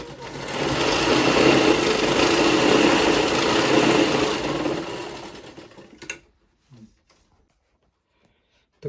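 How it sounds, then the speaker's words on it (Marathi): A sewing machine runs continuously for about five seconds while stitching a baby quilt, then stops, leaving a few faint clicks and handling sounds before near silence. "आता आपण ह्याला शिलाई करून घेऊयात पटपट"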